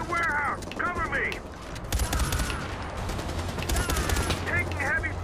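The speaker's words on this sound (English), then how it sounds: "Taking heavy fire!" Bursts of automatic gunfire in the video game Far Cry 4, rapid volleys rattling through the scene while a shouting voice speaks over the shots.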